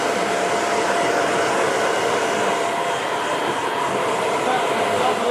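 A hair dryer blows a steady, loud, continuous whoosh while drying hair after a men's skin fade haircut, with no break for its full length.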